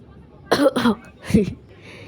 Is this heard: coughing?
yes